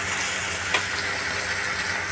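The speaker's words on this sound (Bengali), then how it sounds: "জিরে পাউডার দিলাম, কাঁচা লঙ্কা দিলাম, জল দিলাম, দিয়ে ভালো করে মশলাটা কষিয়ে নেব।" Spice paste of cumin powder, green chillies and water sizzling in a pan, a steady soft hiss with a faint clink partway through, no voices.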